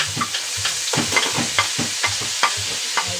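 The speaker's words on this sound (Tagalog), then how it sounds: "mag-gisa na po ako ng para sa lumpia" Onions, garlic and other ingredients being sautéed in a pan for lumpia, a steady sizzle broken by a regular rhythm of spatula stirs and scrapes, close and alone with no talk.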